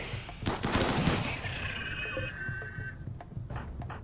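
Rapid bursts of gunfire from a RimWorld-style colony game set on an asteroid, a quick volley followed by a sustained ringing tone and scattered later shots, fairly quiet with no talk.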